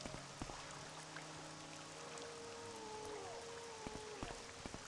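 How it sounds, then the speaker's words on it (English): Rain falling in the video game Morrowind, a faint, steady patter and hiss heard alone beneath soft tonal game sounds, with a few sharper drops standing out. "Although the weather is raining, it's not very pleasant."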